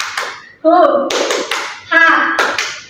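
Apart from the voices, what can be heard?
class doing the 'tepuk semangat' clapping chant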